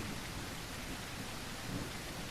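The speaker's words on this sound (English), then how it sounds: "It's the rain." Steady rain with low thunder rumbles from a video game's weather effects, a continuous broadband wash with a couple of deeper swells, no voices.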